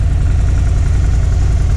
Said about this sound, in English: But the engine actually sounds brand new.